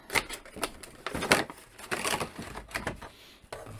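Crinkling, snapping clatter of a plastic packaging tray as a McFarlane Seven Deadly Sins Ban action figure is pulled free, in short irregular bursts, close and fairly quiet, with no talk.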